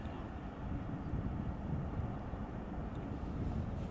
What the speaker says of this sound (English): Next up, Corendon A350 arriving from Willemstad,